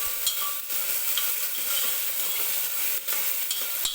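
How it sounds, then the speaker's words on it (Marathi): Tomatoes sautéing in a pan for a green chickpea curry, a steady close sizzle with scraping stir strokes throughout and no talking. "टोमॅटो व्यवस्थित परतून घ्यायचा आहे"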